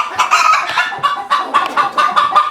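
Broody hens clucking close by, including a black Australorp hen: loud, insistent, repeated clucks in an uneven, overlapping rhythm that continue throughout, with no human voice.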